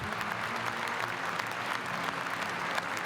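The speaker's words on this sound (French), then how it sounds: "Je vous demande de les applaudir." An audience at a French conference claps steadily, with dense, even applause filling the room from start to finish and no voices standing out.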